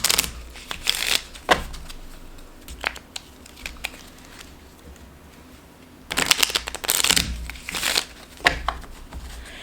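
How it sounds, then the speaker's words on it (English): Crisp riffle shuffles of playing cards, two loud bursts of rapid flapping separated by quieter handling and tapping of the deck, close up. "So I'm going to shuffle."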